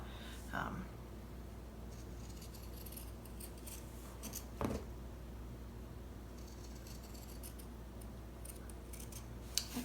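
Scissors cutting out fabric for an embroidery-hoop Christmas wreath, faint close snips and rustles of cloth scattered through a quiet room.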